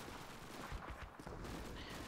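Rapid gunfire from a Call of Duty video game fills the clip as a continuous dense rattle of shots and explosions, steady and unbroken throughout.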